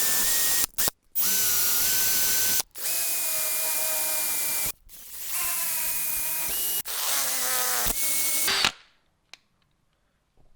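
A power tool cuts an M12 x 1.5 thread for an intake air temperature sensor on a VF Engineering supercharger setup, giving a series of close, loud whining bursts of varying pitch separated by brief stops, then falling quiet.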